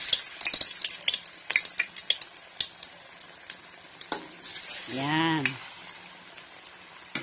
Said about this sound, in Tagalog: Now, prituhin natin ang ating saging.